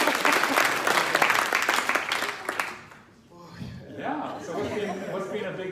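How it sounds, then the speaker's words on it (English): Audience round of applause for Otis at an England Entrepreneurs event, full clapping for about three seconds that fades out, followed by people talking. "Let's give Otis a big round of applause"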